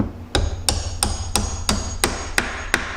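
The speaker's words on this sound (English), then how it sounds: "then we're going to take our hammer and we're just going to drive them in" A hammer strikes eight times in a steady, even rhythm, each blow a sharp, close, ringing knock, driving an antler dowel into wood. No voices.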